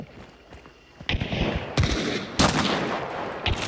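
Gunfire in a first-person shooter video game: a few sharp, loud shots and bursts arrive close together after a quieter start, with faint voices in the background.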